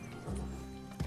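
Horse hooves in Red Dead Redemption 2 give a quick, soft clop or two, faint and brief, over a low game ambience.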